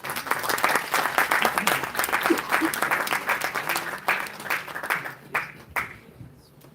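A room full of people applauds at International Mother Language Day event, a dense patter of clapping that thins out and fades toward the end.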